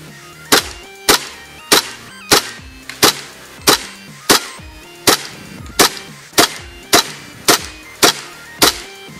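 A KWA MP7 gas blowback airsoft gun fires semi-automatic at a birdhouse about 150 feet away, sharp cracks evenly spaced at roughly two per second, loud and close with no talking.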